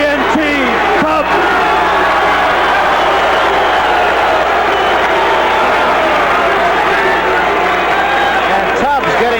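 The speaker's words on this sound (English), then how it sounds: "And Tubbs getting the early crowd support here" Boxing arena crowd cheering for undefeated WBA heavyweight champion Tony Tubbs, a dense, steady roar filling the hall for several seconds beneath a commentator talking.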